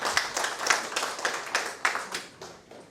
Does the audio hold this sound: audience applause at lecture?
yes